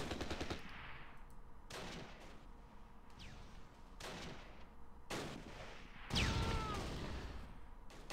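Heavy 20mm cannon fire in the Close Combat: Last Stand Arnhem strategy game, loud repeated bursts of automatic gunfire separated by brief pauses, with a louder burst near the end and no talk over it.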